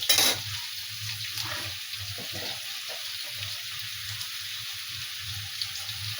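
Brinjal pieces fry in a kadai, giving a steady hiss of sizzling oil with faint low clatter and bubbling underneath, moderately close and without speech.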